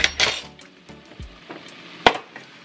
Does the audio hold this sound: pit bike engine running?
no